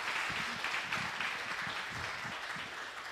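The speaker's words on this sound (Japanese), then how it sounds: "今一度大きな拍手をお願いいたします" Steady applause from a large symposium audience after a lecture, many hands clapping continuously at an even level with no voices on top.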